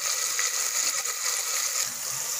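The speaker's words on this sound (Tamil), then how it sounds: "இந்த டைமில் வந்து நம்ம இந்த புளி கரைச்சல நம்ம ஊற்றிடலாம்." Tamarind water poured into a pan of simmering fish curry, a soft continuous watery splash and trickle heard up close for a couple of seconds without talk.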